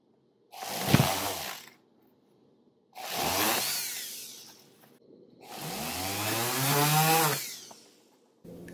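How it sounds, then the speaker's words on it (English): A small drill boring a hole through a polymer clay earring, three whirring bursts separated by pauses, close and fairly quiet, the last burst longer with a rising motor whine. "when I'm ready to drill, I push down a little bit so it doesn't move"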